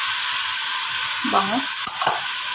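Beef pieces go into a simmering pot of kaldereta with a steady sizzle and stirring, loud and close, while a voice chats briefly over the cooking.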